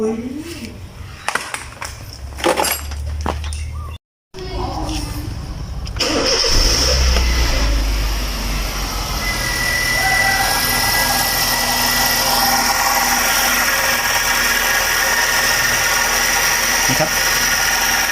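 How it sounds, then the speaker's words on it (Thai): A Honda car engine cranks and starts after a belt and pulley bearing replacement, following a few seconds of handling noise, then settles into a steady, even idle that runs on loudly to the end. "เดี๋ยวเรามาลองเทสเครื่องกันนะ"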